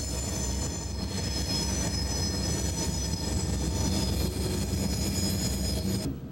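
Freight trains on the Monongahela Railway in 1990, hauled by Conrail, Chicago and Northwestern and Chessie locomotives, a loud, steady rumble of rolling railcars with faint wheel squeal throughout.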